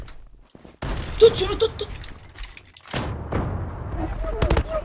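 Video game gunfire comes as scattered shots and short bursts mixed with thumps, while excited voices talk over them close to the mic.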